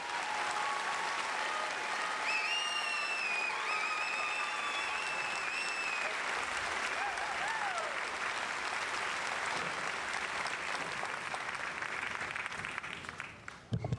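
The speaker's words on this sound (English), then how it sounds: "please join us in giving these fine soldiers a round of applause" An outdoor audience applauding soldiers at an Army infantry graduation ceremony at Fort Benning; a continuous, even wash of clapping from a sizable crowd, with birds chirping in the background, fading off at the end.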